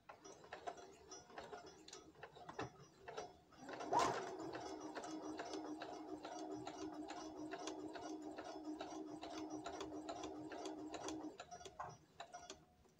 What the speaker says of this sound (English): Back and forth stitch.